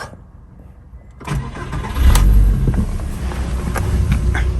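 A Volkswagen Golf 4 VR5 2.3 engine cranks and catches, then settles into a steady low idle rumble close by.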